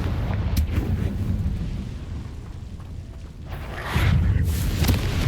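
A Confringo spell explosion in the Hogwarts Legacy video game, a fiery rumbling burst that swells near the end over a background of game noise.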